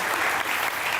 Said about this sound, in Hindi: बहुत तालियां होनी चाहिए।